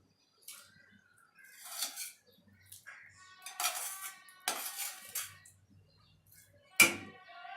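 A spoon stirs a cooked apple mixture into cold milk for apple kheer, giving several separate bursts of scraping and clinking against a metal pot, close and quiet, with one sharp clink near the end.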